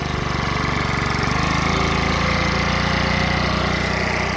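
A four-stroke engine, a no-mixed-fuel motor just started after sitting a week at a gold prospecting site, idles close by in a steady, unbroken loud drone with a low throbbing pulse and no voices.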